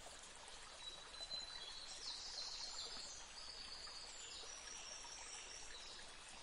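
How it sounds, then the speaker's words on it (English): A babbling brook runs beside village houses in Hampshire, England, along a small tributary of the River Test. The water makes a soft, steady rushing and trickling sound, and faint birdsong chirps above it. "One of the delightful attractions of the village are the babbling brooks near the houses all"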